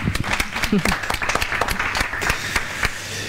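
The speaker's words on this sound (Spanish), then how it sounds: "Un aplauso, Amelia." Applause from an audience, a steady crackle of many hands clapping with voices mixed in underneath.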